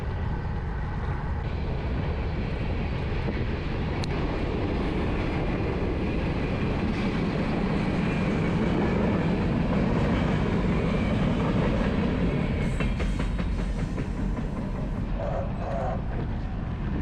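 A CSX freight train rolls past at steady speed, a continuous broadband rumble of wheels and cars near and loud throughout, with faint clicking over the rail joints and some wind noise.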